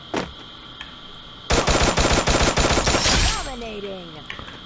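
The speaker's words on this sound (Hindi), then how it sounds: "शॉटगन चला लूंगा भाई" Gunfire from the Free Fire mobile battle royale game: a single shot, then a rapid burst of about a dozen loud, evenly spaced blasts, followed by a ringing, descending tail.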